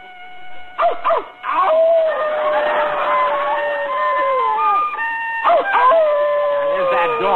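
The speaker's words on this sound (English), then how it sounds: "There's that dog again." A dog barks and howls in an old radio program from San Francisco, long wavering howls broken by sharp yips and barks, close and loud, with a crowd murmuring in the background.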